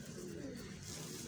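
Soft, low pigeon cooing, a muffled continuous murmur in the background with no talking.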